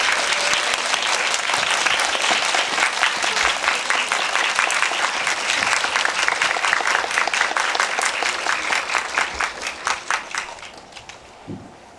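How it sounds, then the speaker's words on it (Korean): Audience at a film screening Q&A for an animated feature applauds guests onto the stage, a loud sustained wash of clapping that thins out toward the end into scattered separate claps before fading. "입장하실 때 큰 박수로 오늘의 게스트들을 맞이해 주시기 바라겠고요"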